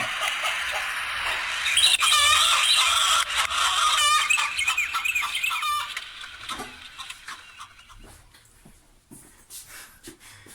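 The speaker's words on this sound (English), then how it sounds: "can someone please shut that chicken up?" A chicken clucks and squawks loudly nearby in agitated bursts, then fades to scattered fainter clucks.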